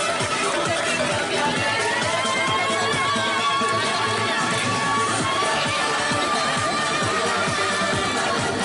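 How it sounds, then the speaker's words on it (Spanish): Crowd noise swells continuously throughout a school Antroxu carnival costume parade, dense babble and clapping-like texture with cheering, loud and steady without pause. "Fuerte aplauso al Colegio de Trago"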